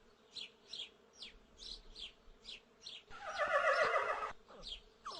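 A horse whinnies with a drawn-out neigh in the middle, set against repeated faint buzzing insect calls and quiet outdoor ambience.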